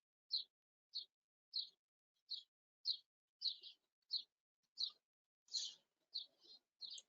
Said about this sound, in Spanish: Tenemos un ambiente pajaritos precioso.